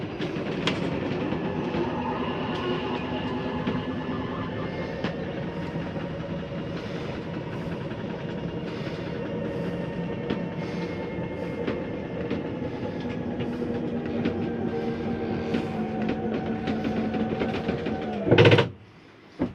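An RV slide-out motor on a Rockwood Premier 2601 trailer drones steadily while retracting the slide, a continuous humming whine that ends with a short, sharp clunk as the slide stops.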